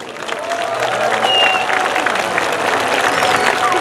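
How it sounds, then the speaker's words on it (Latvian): A crowd applauds folk dance groups at an outdoor Anna's Day celebration in Dagda, steady sustained clapping with light cheering mixed in, fairly loud and continuous throughout. "Tautas deju kolektīvi, jūs esat lieliski! Vēlreiz aplausi!"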